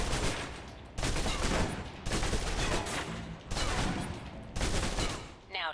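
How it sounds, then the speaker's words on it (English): Submachine gun firing full-auto bursts in the video game Alpha Protocol, loud and close, with about five sustained volleys separated by brief gaps. "Now, let's move on to the submachine gun."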